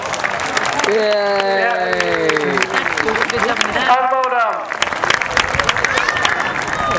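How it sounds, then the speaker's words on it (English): A crowd at the Torbay Airshow applauds with scattered clapping, while voices cheer and chatter over the top and continue throughout. "Give him a big round of applause for that."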